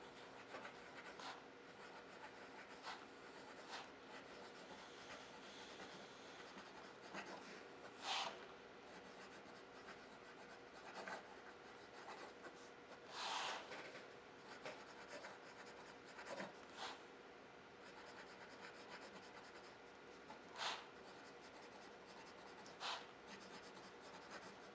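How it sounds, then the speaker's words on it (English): A Kaweco Skyline Sport fountain pen scratches across paper in a quiet, close, continuous stream of rubbing strokes, with a few louder taps and scrapes between words. "I'm just going to show you how this one writes"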